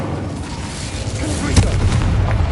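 A fire spell cast in the video game Hogwarts Legacy gives a rushing burst with a sharp whoosh and boom near the middle, over a steady bed of game ambience.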